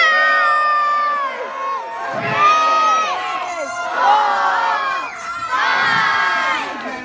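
Children in the audience at a sea lion show at West Midlands Safari Park scream loudly together in several long, sustained bursts, a dense, shrill crowd of young voices rising and falling.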